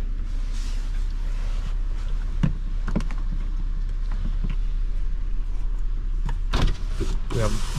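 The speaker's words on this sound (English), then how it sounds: "The windows here are not fully automatic, so you gotta hold the button down." Power windows on a 2017 Infiniti QX50 3.7 are held down by the button, not fully automatic, giving a steady motor whir inside the cabin with a few sharp clicks and knocks. No one speaks.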